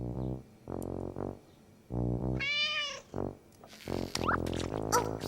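A cartoon cat meows a few times in short, rising-and-falling calls, close by, with other household sounds and a brief voice around it.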